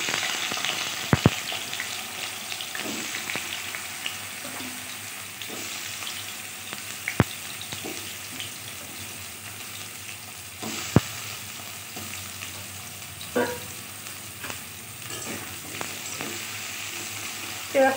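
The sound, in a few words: frying taro pieces in oil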